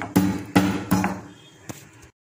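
Pepper, fennel and cumin are pounded in a mortar with three heavy, close thuds about a third of a second apart, then a lighter fourth strike before silence.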